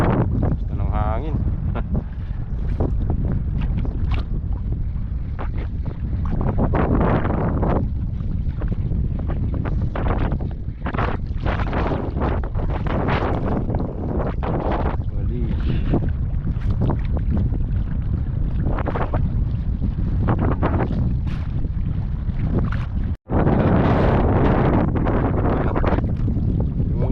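Wind blows hard along the shore during casting in Palawan, Philippines, buffeting the microphone with a heavy, continuous low rumble and gusts, while a person talks intermittently beneath it.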